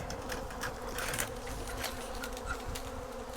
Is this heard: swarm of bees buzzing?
yes